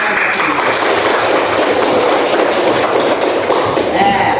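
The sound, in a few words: classroom clapping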